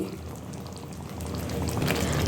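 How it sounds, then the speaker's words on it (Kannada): Water poured into a pan of capsicum chicken masala being made as a semi-gravy with ground masala, chicken masala and chilli powder, a steady close splashing pour that grows slightly louder over about two seconds, with no talking. "ಸ್ವಲ್ಪ ನೀರು ಹಾಕೋತಾ ಇದ್ದೀನಿ"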